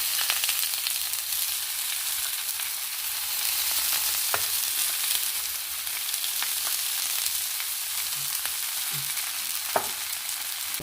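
Steady sizzle of dosa batter roasting on a hot pan greased with butter and oil, a continuous close frying hiss with a few faint clicks, no voices.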